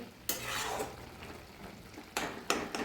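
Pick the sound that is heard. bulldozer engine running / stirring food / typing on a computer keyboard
stirring food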